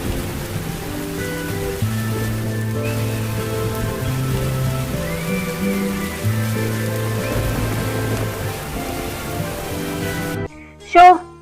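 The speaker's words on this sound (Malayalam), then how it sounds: "എന്തൊരു നശിച്ച മഴയാ." Heavy rain pours steadily under a bed of soft background music for most of the stretch, and a brief voice cuts in near the end.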